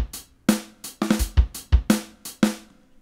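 A boom bap drum beat hits hard and dry, with the snare landing on the fourth sixteenth note and kicks doubled as sixteenth notes, punching out in a steady loop with no voice.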